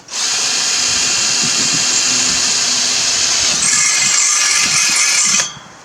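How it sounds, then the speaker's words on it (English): A power drill whines loudly and steadily for about five seconds, its pitch shifting as it bites through a metal grill guard on a Ford Explorer, then stops abruptly. "Now we're going to drill this one through the top."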